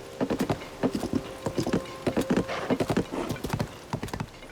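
Video game horse hooves clip-clop in a brisk, regular trotting rhythm, clear and close, with faint tonal background underneath, from The Legend of Zelda: Tears of the Kingdom.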